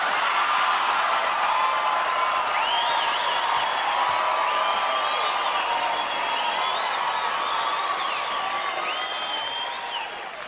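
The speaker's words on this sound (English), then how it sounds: "you guys are clapping and you're laughing because you know" A live stand-up comedy audience at a Gabriel Iglesias show breaks into sustained applause mixed with cheers and laughter, a dense crowd roar that holds steady for about ten seconds before easing slightly at the end.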